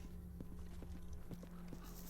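Footsteps in the video game Stalker: Call of Pripyat, a short run of evenly spaced thudding steps over a constant low ambient hum, with no talking.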